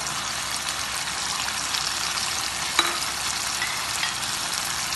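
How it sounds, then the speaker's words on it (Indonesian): Mixed vegetables, including bell pepper, tomato and coriander leaves, hit a hot frying pan and give a steady, dense sizzle close up, with a faint clink partway through and no talking. "Masukkan sayur campur."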